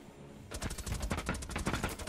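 Rapid automatic gunfire from the video game Rainbow Six Siege, a dense burst of sharp repeated shots starting abruptly after a brief quiet moment and continuing steadily to the end.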